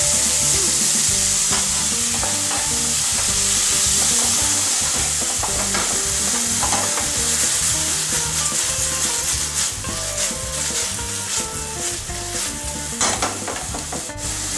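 Mushrooms and garlic stir-fry in a little oil with salt and pepper, a steady close sizzle with constant spatula scraping and stirring throughout, no voices.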